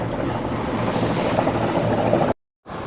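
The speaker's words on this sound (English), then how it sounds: "A lot of boat traffic in this little creek." Steady broadband rumble of a motorboat engine passing nearby on a small creek, with wind and wash noise, cutting out abruptly near the end.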